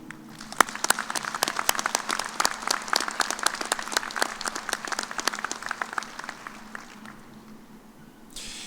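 At a fall commencement ceremony for the College of Health and Human Sciences, an audience claps in a dense, steady round of applause that thins out and fades after about seven seconds.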